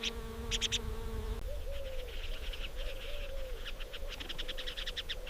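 Assorted birds call and twitter around an old exiled buffalo bull in the African bush, bursts of chirping and steady chatter over a low continuous background hum, moderately loud and without speech.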